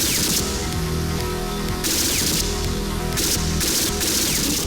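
Bursts of gunfire from a low-budget action film, rapid volleys of shots repeating in several loud clusters over a dense soundtrack, with no talking.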